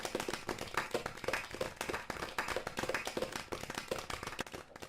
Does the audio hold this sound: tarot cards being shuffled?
no